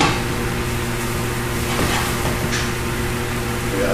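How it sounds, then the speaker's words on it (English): Chicken stir-fry ingredients fry in hot oil, giving a steady, close, broadband sizzle that holds even and loud throughout with no talking. "your oil is still hot, you're going to add this in, and you're going to fry it off for a little bit also"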